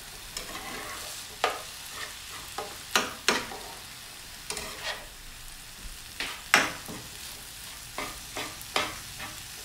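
Mince frying in a pan for sausage rigatoni sizzles softly underneath repeated sharp scrapes and clacks of a utensil breaking it up and stirring, irregular and close by.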